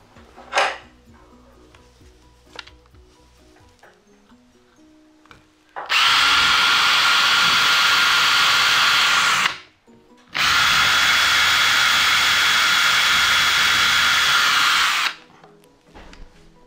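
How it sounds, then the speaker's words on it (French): A power drill bores into a pipe while drilling a pivot point on a car in a garage, running loud and steady in two long bursts of about four seconds each, split by a brief pause, after some quiet handling noises. "There's no need to drill all the way through."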